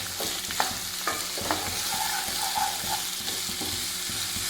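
Onions sizzle steadily in a pan while being sautéed for a chicken stew, with repeated scraping and clacking of a spoon stirring them close by; no one speaks.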